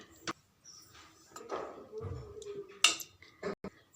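Sambar being stirred in a pot after the tempering, with scattered metallic clinks and scrapes of a ladle, faint and intermittent with soft handling noise between.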